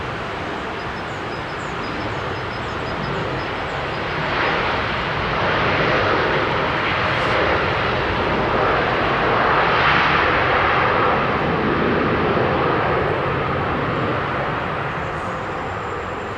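Jet aircraft engines roar steadily at London Heathrow airport at sunrise, a broad continuous rumble that swells gradually through the middle and eases slightly toward the end, with no voices.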